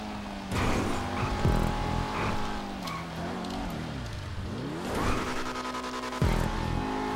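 A race car in GTA 5 drives a stunt course, its engine droning and rising and falling in pitch through gear shifts and corners, with brief tire squeals, loud and close throughout.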